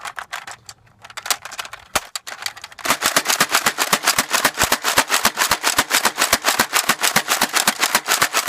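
Dart Zone Powerbolt toy blaster firing foam darts in rapid succession, a steady fast train of sharp loud snapping shots, preceded by a few slower clicks and handling noises, with no talking.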